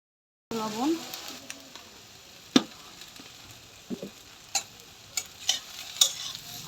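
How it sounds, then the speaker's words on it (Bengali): Okra fries in a pan with chili powder, a loud sizzle starting abruptly and continuing under scraping stirs, with several sharp clinks of a utensil against the pan. "আমি গুঁড়া মরিচ দিয়ে ভাজতেছি"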